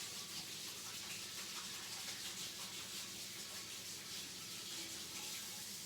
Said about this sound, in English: Let me wash my hands one more time, because now they're all buttery.